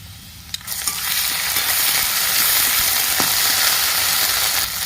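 Onion, ginger and garlic sizzle steadily in hot oil in a pan, a continuous loud crackle with faint scraping stirs, no voices.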